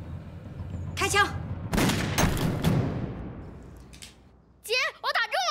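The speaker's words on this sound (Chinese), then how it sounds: "开枪！" A gun is fired during target practice, sharp bursts of shots in quick succession mid-way, with people speaking before and after.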